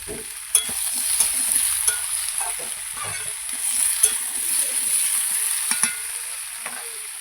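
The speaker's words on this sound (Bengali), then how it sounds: "এবার দিয়ে দেবো আগে থেকে কেটে রাখা টমেটোগুলো" Chopped tomatoes fry in a hot pan for a katla fish curry, with a steady sizzle broken by sharp clacks and scrapes of stirring, close and uninterrupted by voices.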